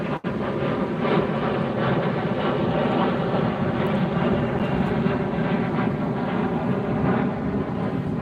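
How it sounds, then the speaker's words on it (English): A Kalitta Air Boeing 747 taxis at LAX, its engines a loud continuous broadband roar and rumble with no breaks, heard from outside near the beach. "Kalita Air is taxiing up. That's going to be a Boeing 747 Flight 818 to Seoul, South Korea."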